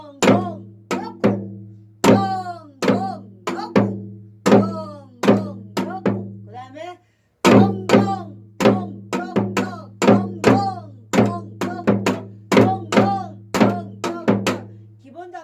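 A Korean janggu drum plays a variation on the semachi rhythm, its sharp strokes falling in steady, repeating groups, loud and close, with a brief pause about halfway through.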